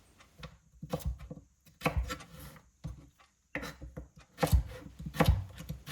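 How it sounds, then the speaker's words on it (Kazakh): A knife chops carrots on a cutting board in uneven bursts of crisp thuds, close by, with brief pauses between runs of cuts. "Оны видеодағыдай етіп, ұзын қып тураймыз."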